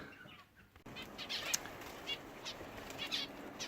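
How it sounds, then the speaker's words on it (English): Zebra finches flapping their wings inside an aviary, a busy run of soft wingbeat flutters and rustles with faint chirps, steady and fairly close. "So today I am just in the aviary and I am sorting out birds."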